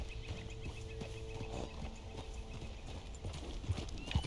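Soft, rhythmic hoofbeats of a horse walking in Red Dead Redemption 2, fairly quiet beneath outdoor game ambience, with a couple of sharper thuds near the end.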